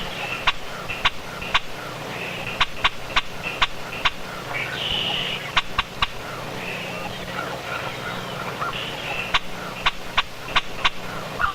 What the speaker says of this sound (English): Red-winged blackbirds are everywhere, busy collecting insects for their young and calling noisily from the cattails